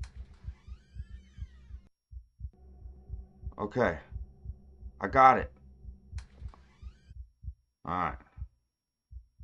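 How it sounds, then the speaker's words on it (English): Heavy, thudding heartbeat pulses play as a sound effect in the Boogie Man mansion video game. The pulses come in irregular beats over a low hum, and a player talks briefly between them. "My heart beating and stuff."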